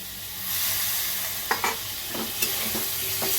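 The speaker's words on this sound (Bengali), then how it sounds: "আলু পটলটাকে দিয়ে একসাথে কষাতে থাকবো" Spice paste with potatoes and pointed gourd sautéing in a pan for a catla fish curry, a steady close sizzle broken by a few sharp scraping stirs.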